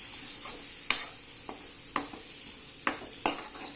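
Onion with red chilli powder frying in a pan, a soft continuous sizzle broken by several distinct scrapes and clinks of a spoon stirring, close and fairly quiet.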